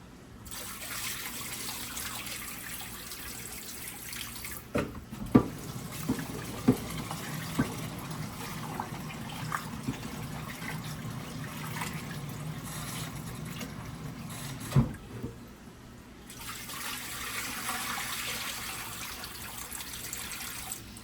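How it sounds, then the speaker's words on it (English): Rice being washed in water, soft trickling and swishing of liquid with a few light knocks against the container, faint and close, with a brief pause near the end. "That's why we wash the rice."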